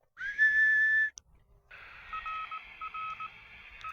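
A person whistles a steady 1750 Hz tone for about a second to open an amateur radio repeater on a handheld VHF/UHF transceiver, followed by a long, clear electronic tone from the radio.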